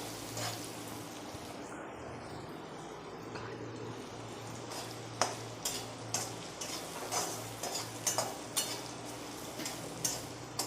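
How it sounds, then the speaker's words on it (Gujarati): Potatoes frying in oil for sabudana khichdi, with a faint steady sizzle under a run of light clinking spoon strokes against the pan in the second half, no voices. "હવે બટાકાને આપણે ફેરવ કરવા પડશે, કેમ કે એને ચડાવવાના છે તેલમાં"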